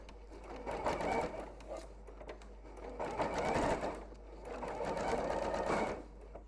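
A sewing machine stitches ribbon loops in bursts, its rapid mechanical whir rising and stopping in three separate runs, close and fairly quiet with short pauses between.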